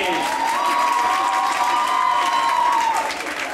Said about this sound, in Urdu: اب اپنے لیے ڈھیر ساری تالیاں بجا دیجیے